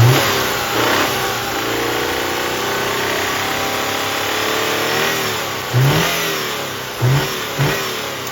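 A Subaru car engine, suspected of a bad timing belt tensioner and overheating, revs loudly and continuously up close, with a couple of brief surges in pitch near the end and no talking.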